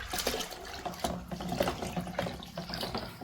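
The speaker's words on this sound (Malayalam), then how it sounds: "അപ്പൊ നമുക്ക് ഈ ലിക്വിഡ് ഇതിലേക്ക് ആഡ് ചെയ്തിട്ട് മിക്സ് ചെയ്ത് കൊടുക്കാം കേട്ടോ" White liquid poured into a homemade lemon dishwash mixture, giving a faint, continuous close-up trickling and splashing of liquid.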